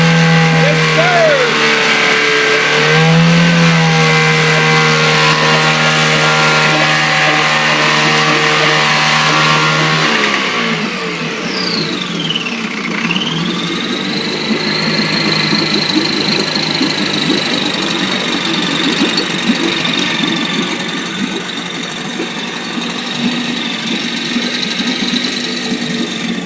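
A Mercury outboard engine on a customized bass boat runs steadily, then its pitch sweeps down and back up as the throttle changes, continuing loud to the end.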